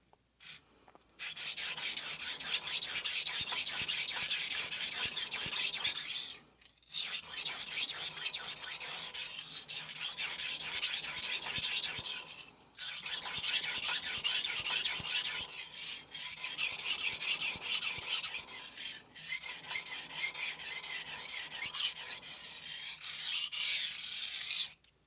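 A Tsunehisa 165mm kitchen knife is sharpened on a Cheefarcuut 1000 grit sintered vitrified whetstone, giving rhythmic, close, gritty rasping strokes in four long runs split by brief pauses.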